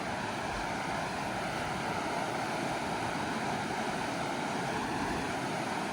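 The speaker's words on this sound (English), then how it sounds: "There's a waterfall on the other side." A waterfall on a river island park in Iceland, heard as a steady, even broadband rush of water that holds at the same level throughout, with no voices.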